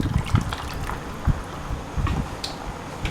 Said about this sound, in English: Okay, then we add the chicken stock.